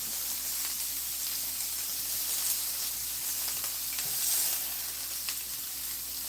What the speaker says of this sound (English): it's just a little sear